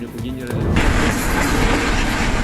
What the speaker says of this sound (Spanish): Es la explosión del depósito de petróleo que surte las gasolineras de Basilkiv